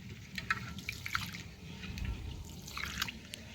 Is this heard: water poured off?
yes